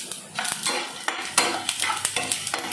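Cumin seeds fry in a pan with a steady crackling sizzle, broken by sharp scraping clicks of stirring, close and moderately loud.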